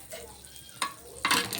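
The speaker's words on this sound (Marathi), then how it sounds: "आपण हे तव्यावर सुद्धा सँडविच फ्राय करू शकतो" A sandwich fries in butter on a tawa griddle with soft sizzling, broken by a couple of short scraping or stirring sounds close by.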